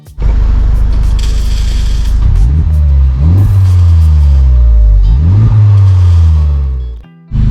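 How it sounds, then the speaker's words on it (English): A 2021 Honda Civic Type R FK8 with a muffler delete roars through repeated hard accelerations, the engine note climbing in pitch with each gear, very loud and close, then cutting off abruptly near the end. "I'll probably throw in some clips right now of some revs and acceleration because it sounds so good"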